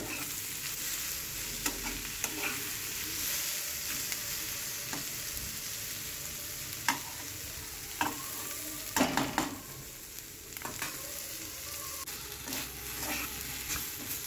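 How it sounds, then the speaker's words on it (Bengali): Moong dal fried with chopped tomato and vegetables in a pan, with a steady close sizzle and scattered scraping stirs; no voices. "দিয়ে ভালো করে ডালটা আর এই সবজিগুলো ভালো করে ভেজে নেব"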